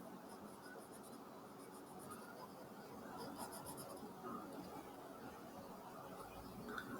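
Pen scratching on paper as a cartoon figure is drawn, a steady, soft, continuous rubbing and scribbling close to the microphone, faint and unbroken, with no one speaking.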